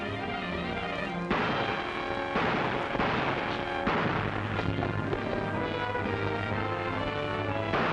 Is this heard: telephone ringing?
no